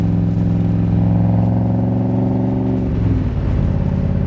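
A 1965 Shelby Cobra replica, a Superformance MkI with a Tremec 5-speed, drones with a steady engine note that drops in pitch near the end as a gear is shifted; the sound is close and loud, with no voices.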